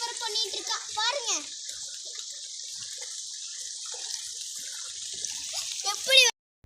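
Raw mangoes are washed under running tap water, with a steady splashing hiss of the stream throughout and a voice chattering over it before the water cuts off abruptly near the end.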